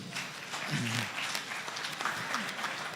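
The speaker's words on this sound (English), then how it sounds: "Let's give a round of applause." Applause at a student meet-up with animation professionals, steady clapping from a small indoor audience lasting a few seconds, with a voice or two briefly audible underneath.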